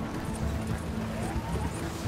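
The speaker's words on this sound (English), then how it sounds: "How many horses are following me?" Several horses gallop in Red Dead Redemption 2, a steady thudding clip-clop of hooves running continuously and fairly close, with no talk over it.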